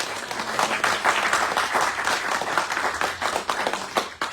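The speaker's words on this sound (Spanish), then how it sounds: "Denle un aplauso al Señor." A church congregation claps together in praise, a dense, steady wave of applause that fills the whole stretch at close range and fades slightly near the end.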